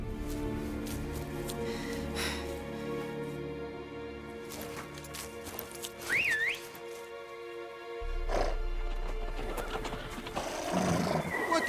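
Horses whinny in Witcher 3: Blood and Wine, one sharp rising neigh cutting through a swelling orchestral score and heavy ambience, with hoof and scuffing sounds and a deep rumble joining partway through.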